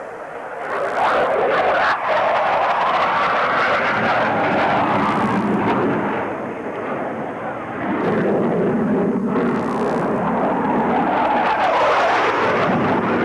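Blue Angels jet aircraft converging at maximum speed and minimum separation in a 1989 air show, a loud continuous roaring rush that swells, dips briefly midway, then surges again close by.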